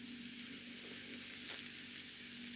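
Quiet, steady sizzling of zucchini frying in a pan, with a single brief clink partway through.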